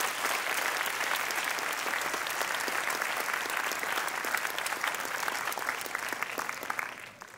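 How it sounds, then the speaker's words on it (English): A school auditorium audience at a primary sports awards ceremony gives a long, dense round of applause that stays steady, then thins slightly at the end. "Can we please give them a huge round of applause?"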